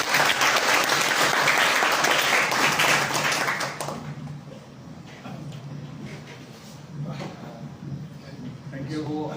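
Loud audience applause fills a hall at a student social responsibility session, dense clapping for about four seconds before thinning into scattered claps and murmuring voices.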